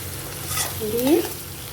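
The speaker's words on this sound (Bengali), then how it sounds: "একটু নাড়াচাড়া করে নিচ্ছি।" Chopped onion and capsicum being stir-fried for chili chicken, a short burst of sizzling with a spatula stirring scrape through the middle, close up and without speech.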